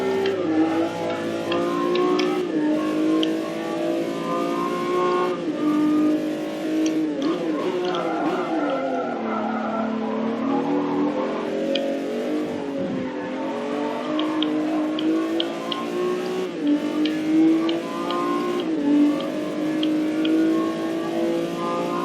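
An old 1990s Honda NSX race car engine in a racing video game, droning and revving steadily throughout with shifting pitch as it races against a Ford.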